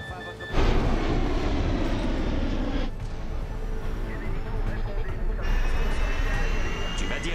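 An American airliner on its landing descent roars with a loud, steady jet-engine drone that swells and holds throughout, while people talk tensely beneath the noise.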